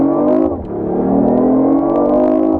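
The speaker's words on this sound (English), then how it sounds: "You've got the inline 3-cylinder engine kicks in." A hybrid car's inline 3-cylinder engine pulls hard under acceleration, a loud, close droning note that eases briefly after half a second and then climbs steadily again.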